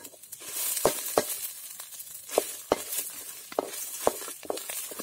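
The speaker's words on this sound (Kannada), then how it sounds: "ಸ್ವಲ್ಪ ಈರುಳ್ಳಿ ಹಾಕ್ತಿದ್ದೀನಿ, ಚೆನ್ನಾಗಿ ಫ್ರೈ ಆಯಿತು" Onions and coriander leaves frying in a pan, a steady soft sizzle with sharp clinks and scrapes of a spatula stirring at irregular intervals, close and without talk.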